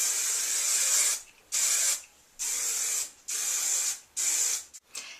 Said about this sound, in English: I would take a good hairspray and spray it all over your hair.